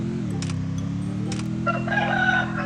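A chicken clucking and crowing in the Free Fire video game, a few close, distinct calls over a steady low background hum.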